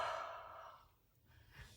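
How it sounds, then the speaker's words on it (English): A single close, breathy exhale onto a rubber stamp to moisten its ink, a soft airy breath that fades out over about a second, followed by a faint second puff. "breathe on it, it reactivates the ink so that you don't have to worry about it drying"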